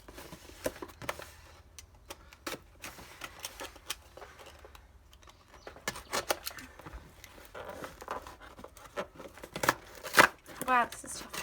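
Cardboard of a happy mail package box being ripped open by hand, a series of sharp tearing and crinkling bursts, close and fairly quiet, with a person talking between the tears.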